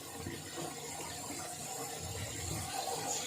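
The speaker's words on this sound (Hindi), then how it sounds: "फिर हम इसमें पानी डालेंगे ताकि इसकी जो है ना लौकी अच्छी तरीके से गल जाए।" Water pours into a cooking pot of chicken and bottle gourd with a soft, steady splashing trickle, quiet and close, lasting a few seconds.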